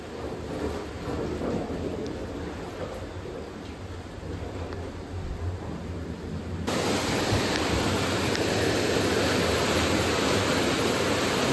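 Water roars out of a hydro dam, bypassing the turbines: a steady, dense broadband rush close by that swells noticeably louder partway through, with no voices over it.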